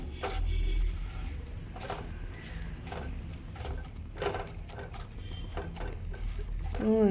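Masala roasting in oil in a pan for a prawn gravy, with repeated scraping stirs and a low sizzle underneath, close by, ending in a short clink of utensil.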